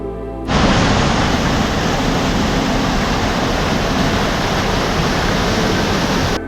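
Water from a dam rushing through a small shutter on an aqueduct: a loud, dense, steady roar that starts abruptly after half a second and continues unbroken.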